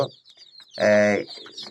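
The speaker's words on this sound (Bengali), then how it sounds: "মুরগি খাইতেছে। মুরগি আমার সুস্থ সবল আছে।" Desi backyard chickens feeding on broken rice and broiler feed, with one loud drawn-out cluck up close amid soft scattered pecking and clucking sounds.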